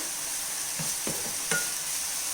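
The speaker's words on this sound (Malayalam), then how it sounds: "Chicken fry ആയിക്കൊണ്ടിരിക്കുന്നുണ്ട്." Chicken fries in a pan beside a rava biryani on the stove, giving a continuous hissing sizzle with a few faint utensil taps under it and no voices.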